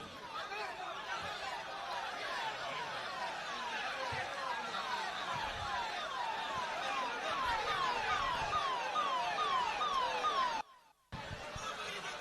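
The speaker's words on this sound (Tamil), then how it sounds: "கொஞ்சம் ஒரு ஆம்புலன்ஸ் வருது." An ambulance siren passes, its rapid rising and falling wail repeating loudly and steadily, then cutting off abruptly near the end, with a voice speaking over it.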